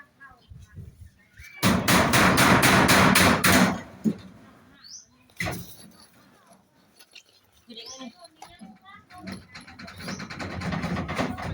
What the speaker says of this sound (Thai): ตอกเลย